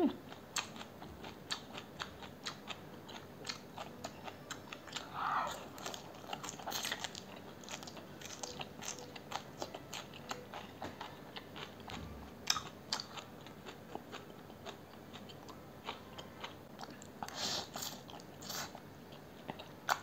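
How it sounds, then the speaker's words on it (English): Crunchy greens being chewed with spicy mi goreng instant noodles, sausage and egg, a close, quiet series of crisp bites and wet chewing clicks, continuing steadily without talk. "I love the greens and this is still crunchy guys."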